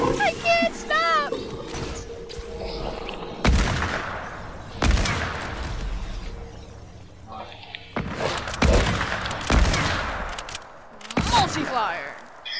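Video game gunfire with sniper shots, several loud sharp bursts spread across the clip, mixed with excited voices talking and shouting.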